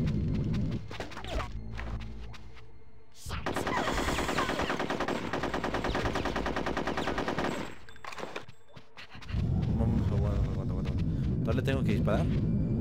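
Rapid automatic gunfire bursts in the video game Conker's Bad Fur Day, loud and sustained across two long stretches, separated by a brief lull with rumbling game sounds and someone talking.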